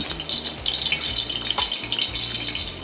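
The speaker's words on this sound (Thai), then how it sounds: "ที่น้ำมันเตรียมจะทอดถั่วเรา" Green beans fry in hot oil with garlic and fermented soybeans in a wok, giving a steady, loud, close sizzle with a continuous crackling hiss throughout and a low humming drone underneath.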